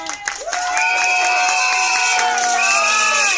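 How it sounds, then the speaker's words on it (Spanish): At a Carnival gathering, a loud crowd of children and adults cheers and shouts for the Carnival king, sustained high voices ringing out together with some clapping mixed in, close and continuous. "Un aplaudiment pel Carnestoltes"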